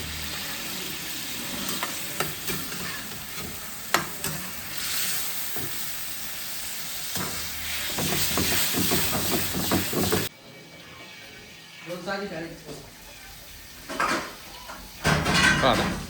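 Masala sizzles and hisses on a tava griddle at a street-food fish eatery. Scrapes and clinks of a spatula come in bursts, and the frying drops to quieter crackles partway through.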